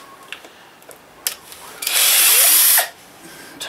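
A power driver whirs for about a second while backing a screw out of a wall-mounted power socket box in a bedroom, preceded by a few small clicks and taps, close and loud with no talk.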